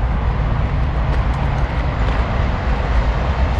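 A Yamaha SR400 motorcycle with a loosely fitted MotorRock fishtail upswept muffler makes a loud, steady low exhaust rumble with a broad roaring wash that runs unbroken for the whole stretch, close by and with no voices over it.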